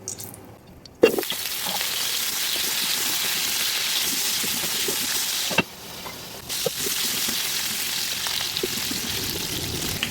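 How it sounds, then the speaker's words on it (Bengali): Potato pieces frying in hot oil in a pan, a steady close sizzle that starts abruptly, briefly drops out for about a second midway, then resumes at the same even level. "এবার আলুগুলো আমি ভাজি করে নেব।"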